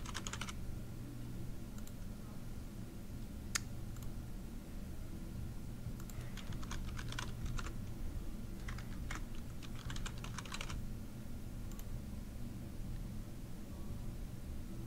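Typing a username on a computer keyboard, a light run of close key clicks in irregular bursts over a low steady hum, with no talk.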